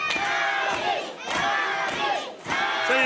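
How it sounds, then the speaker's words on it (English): A wrestling crowd at an independent show cheers for wrestler Abby Jane in loud, rising waves of chanting and shouting, swelling and dipping roughly every second, with no clear speech over it. "The crowd firmly behind Abby Jane right now."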